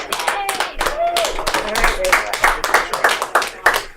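Comedy club audience clapping for a comedian, a dense burst of close handclaps rising and falling over four seconds, with a host's voice talking over it.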